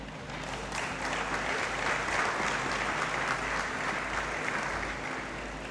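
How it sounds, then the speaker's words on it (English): Audience applause in a great hall at a university graduation congregation ceremony, a sustained, even wash of many hands clapping, heard at a distance with a low background hum throughout. "Let us recognize their contribution with a clap."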